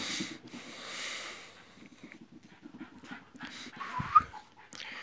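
A dog pants in quick breathy bursts and lets out soft, high whimpers, close by, with a brief snort near the end.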